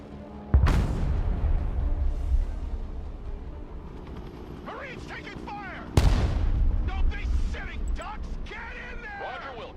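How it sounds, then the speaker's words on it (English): Heavy artillery booms in the Rimworld video game, two loud blasts several seconds apart with rumbling tails, overlaid by chirpy radio-style voices and talk. "I'm gonna bombard the hell out of the buildings that are here."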